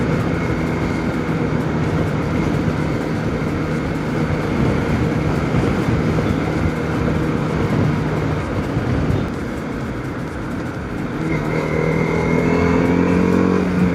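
A TVS RTX 300 motorcycle rides along with a steady loud engine drone and wind rush, close and continuous, the engine note rising as it accelerates toward the end.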